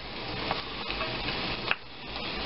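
About a pound of cut leaf spinach being stirred and sautéed in butter, giving a soft continuous sizzle with a few light scrapes and clicks, fairly faint and close, with no talking.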